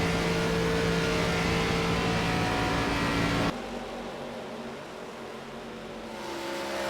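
Engine of an ARCA Ford Mustang race car running hard down the main straight, a loud sustained roar with a steady engine tone that suddenly drops back to a lower, quieter drone partway through.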